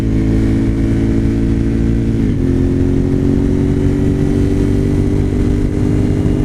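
Suzuki TL1000R sport motorcycle with 150,000 miles, ridden in second gear through a low-speed corner, its engine droning steadily and close with a slight dip and shift in pitch partway through.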